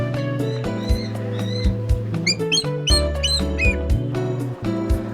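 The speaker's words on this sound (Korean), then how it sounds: "바다수리가 큰 소리를 내더니 물고기를 낚아챈다." A sea eagle gives a quick series of high, sharp squawking calls in a mangrove forest near Cancun, Mexico, heard over a steady tonal background.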